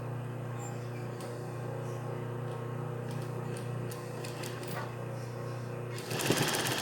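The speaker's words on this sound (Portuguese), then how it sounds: "E a gente vem pespontando para dar aquele acabamento." A sewing machine runs steadily while topstitching a French seam on fabric, a close continuous whirring stitch rhythm that speeds up and grows louder near the end, with no talking.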